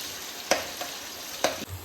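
Onion sizzles as it fries in a pan and is stirred, a steady soft hiss broken by a couple of scraping stirs, quiet and close with no talk.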